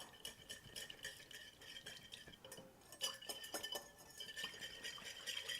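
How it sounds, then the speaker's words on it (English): A whisk clinks and scrapes steadily against a bowl while salad dressing is mixed, a busy run of light metallic taps and stirring with a brief louder clatter midway, close and continuous with no talk. "now we're just going to whisk everything until it's well combined"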